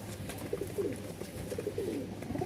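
Four pairs of pigeons cooing softly in a loft, repeated low rolling coos at a steady pace, fairly faint over a light background hum with no talking.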